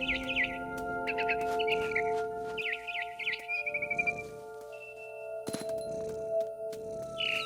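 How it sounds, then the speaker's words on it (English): A barn swallow chirps near a window in What Remains of Edith Finch, quick bursts of bright twittering notes repeating in short phrases over a steady low tonal hum. "Then I heard chirping outside my window. It was a barn swallow going back to her nest."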